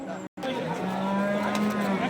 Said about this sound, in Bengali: এই পাশে এক জোড়া বলদ আবাল গরু আছে